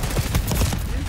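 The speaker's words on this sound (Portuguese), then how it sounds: "estou a disparar para a cabeça e o gajo não atinge" Rapid gunfire in the Call of Duty Black Ops 6 multiplayer video game, dense loud bursts of shots in quick succession.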